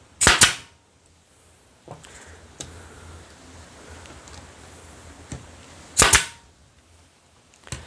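A nail gun drives nails into the timber frame of a flatpack beehive, with two sharp, loud snapping shots several seconds apart and a few softer taps and knocks in between, no speech.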